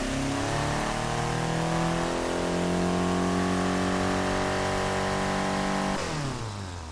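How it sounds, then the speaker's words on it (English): A V8 engine in the Automation car-building game sweeps up through its rev range on a dyno, a loud continuous harmonic engine note climbing steadily for about six seconds before cutting off abruptly as the revs drop. No talking. "let's quickly dyno this motor"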